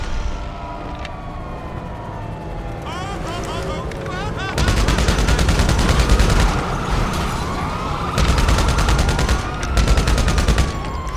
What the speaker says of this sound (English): So now I spam the RPG at them, or the homing launcher missile.